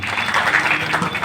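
Brief crowd applause at a district community gathering of the Vishwakarma society, a dense, continuous patter of many hands for about a second.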